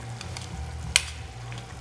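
Canned plum tomatoes with a little water simmer in a pot for marinara, bubbling and sizzling steadily, with one sharp clink of a spoon striking the pot midway.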